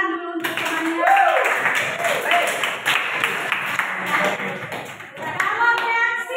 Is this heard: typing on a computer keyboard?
no